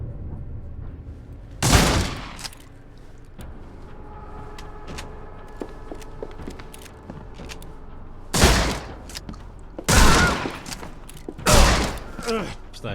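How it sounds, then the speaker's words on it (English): Shotgun fire in The Sinking City video game, four loud sharp blasts spaced a few seconds apart over quieter ambient game sound and scattered clicks, with people talking in between. "oh jeez, those are shotguns"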